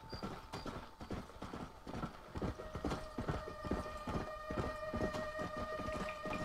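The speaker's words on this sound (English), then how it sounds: "Run, you damn horse. Run." A horse gallops steadily in Red Dead Redemption: Undead Nightmare, its rapid hoofbeats loud and continuous over a busy game background throughout.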